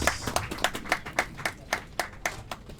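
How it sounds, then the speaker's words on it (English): Clapping at an NGO expo, a small group applauding in a quick, even rhythm of distinct claps, close and fairly loud, lasting a few seconds with no talk over it. "Let's give him another round of applause."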